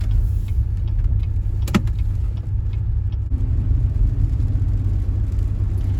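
A 2015-2020 GM SUV with freshly replaced Magnaride strut assemblies drives down the road, its steady low engine and road rumble filling the cabin, with a brief sharp knock midway as if over a bump.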